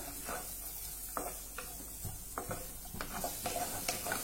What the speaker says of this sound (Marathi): हे आपण थोडं परतून घेऊया